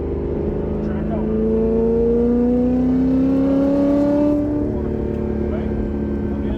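A Corvette engine pulls and accelerates on a road course, its rising tone climbing steadily and loud, with a voice talking over it throughout.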